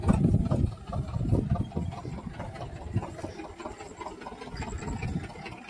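Swaraj 724 two-cylinder tractor engine, fitted with a 6x6 disc harrow, runs with a steady, close, low-pitched thudding throb that holds a fairly even level throughout.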